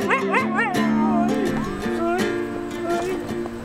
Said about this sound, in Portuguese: O Dog Sled, que é aquele trenó puxado por cachorro na neve.